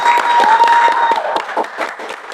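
Audience applause welcoming a guest onto a talk show stage about children and digitalisation, loud, close claps with distinct individual hand strikes, fading slightly toward the end, with a faint steady tone underneath.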